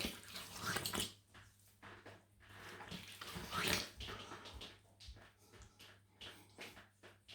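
Tap water runs and splashes in a basin while a razor and shaving brush are rinsed during a wet shave, in close, uneven gushes that swell and fade.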